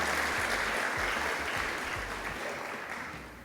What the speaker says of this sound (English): I think African First Ladies deserve a round of applause